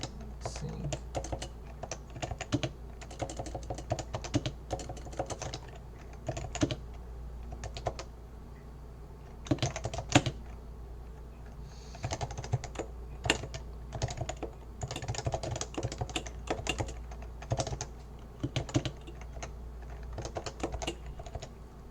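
Steady typing on a computer keyboard while Python websocket client code is written, with rapid uneven key clicks and bursts running throughout, close and moderately loud, with no speech.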